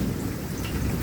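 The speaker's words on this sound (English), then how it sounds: "still a lot of thunder and lightning" Thunder rumbles steadily under dense rain during a May thunderstorm, with no break across the short stretch.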